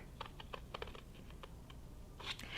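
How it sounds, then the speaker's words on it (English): Scissors snipping a paper sheet along a drawn line for a children's paper-village craft: a quiet run of crisp, irregular clicks and cuts, close up and soft, with a slight shuffle of paper at the end and no talking. "I'm going to cut it right here"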